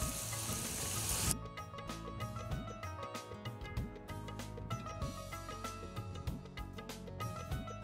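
Onions and radish leaves fry in a pan with a loud, steady sizzle, a bright hiss at the start giving way to crackling and scraping as the leaves go in and are moved about, with no talking.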